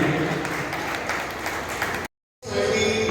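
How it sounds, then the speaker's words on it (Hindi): An audience claps loudly and steadily at a hospital-supported service organisation event, a dense sustained burst of applause that cuts out abruptly, then resumes briefly after a short silence. "जोरदार तालियां"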